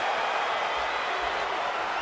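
A crowd applauding and cheering during a video game fight, heard as a dense, even roar of clapping that holds steady throughout.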